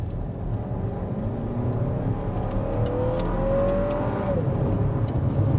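A 2022 Lexus NX SUV engine revs up steadily from inside the cabin, the rising tone climbing as it accelerates, a smooth synthetic-sounding growl from sound enhancement over road hum.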